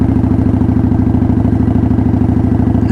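Motorcycle engine chugging at low revs in a steady, rapid thumping rhythm while ridden slowly at about 10 mph without the clutch, close and loud, with no talk.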